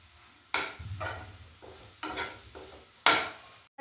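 Coarsely crushed green peas fry in a pan for Rajasthani makki dhokla, giving bursts of sizzling and stirring scrapes that rise and fade in several close, fairly quiet waves.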